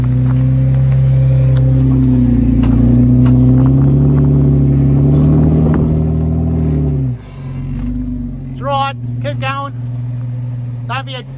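A jeep grinds along an off-road track on a loud, steady engine drone that eases off near the end, while people talk and call out over it.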